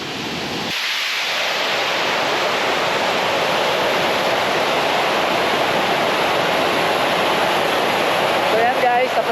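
Kawa-Kawa Falls in San Remigio, Antique, roars as a loud, steady, broadband rush of falling water close by, constant throughout, with a voice faintly heard near the end.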